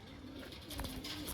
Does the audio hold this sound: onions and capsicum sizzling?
no